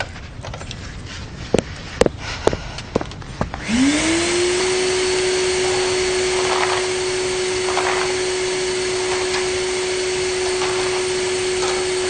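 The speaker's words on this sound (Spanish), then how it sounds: "Estoy aspirando." A vacuum cleaner starts up after a few sharp knocks and thumps, its motor quickly rising to a steady high whine that runs on loudly and continuously to the end.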